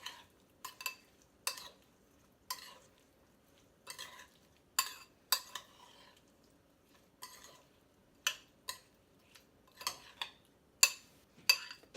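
Tomato and sesame salad being mixed in a bowl, a series of irregular wet clicks and utensil taps against the bowl, close and fairly quiet with silence between strokes.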